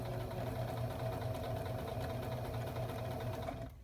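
A sewing machine runs steadily while stitching a French seam in fabric, a close, continuous mechanical hum with a fast rhythmic needle patter that stops abruptly at the end.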